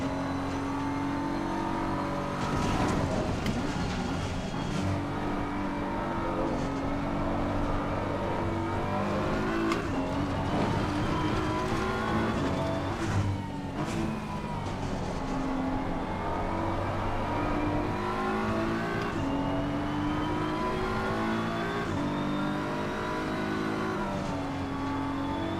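Race car engine in the Assetto Corsa Competizione racing game on a slippery wet track, loud continuous revving that climbs and drops through repeated gear changes, with whirring and other cars nearby.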